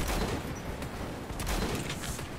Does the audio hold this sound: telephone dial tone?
no